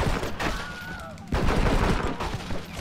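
Sniper rifle fire in Red Dead Redemption, a dense volley of sharp shots cracking near and far in a fast, uneven rhythm during a shootout, with a loud burst around the middle and continuing gunfire after.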